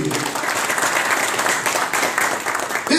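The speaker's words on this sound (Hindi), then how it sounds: "एक बार जोरदार ताली आप सभी के लिए" An audience at an AWPL welcome event bursts into sustained applause, dense clapping continuing at a steady loud level before tapering at the end.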